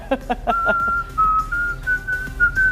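Someone whistles the Notre Dame fight song up close, a few quick bouncing notes followed by longer held and sliding tones.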